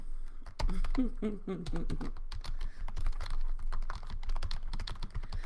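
Rapid typing on a computer keyboard during a live stream, with dense, irregular key clicks running almost throughout and a brief burst of quiet speech near the start.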